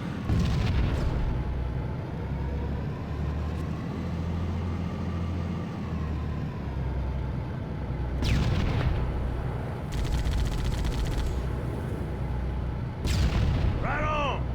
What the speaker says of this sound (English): I can actually get destroyed by bombs as well